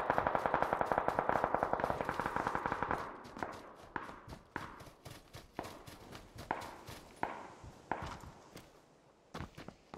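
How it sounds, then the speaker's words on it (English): A suppressed SKS rifle in PUBG, first a rapid run of muffled shots, then a slower string of single cracks with footsteps moving between them, fairly close and free of talk. "Suppressed SKS somewhere here."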